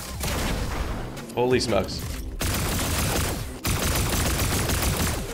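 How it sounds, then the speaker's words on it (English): Pulse rifle gunfire in Fortnite, steady dense bursts filling the clip with a brief gap midway where a voice speaks, loud and close throughout. "This guy's using that pulse rifle to its maximum potential."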